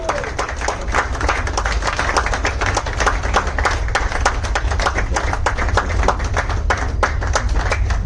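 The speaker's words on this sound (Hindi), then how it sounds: "प्लीज जोरदार तालियां" Loud, vigorous audience clapping at a business orientation meeting, sharp individual claps merging into a steady, continuous roar as guests are welcomed onto the stage, with voices faintly mixed in.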